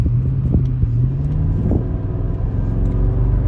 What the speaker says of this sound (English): car takes off. It's very fast. This is an AMG.